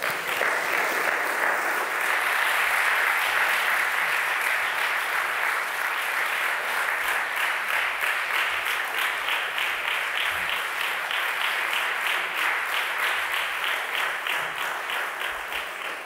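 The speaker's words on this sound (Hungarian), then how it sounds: "Köszöntsük tapssal őt!" An audience at a lecture hall applauds to welcome a lecturer giving the 2023 Ötvös lecture, with steady, dense clapping that holds loud and even for about sixteen seconds without any talk.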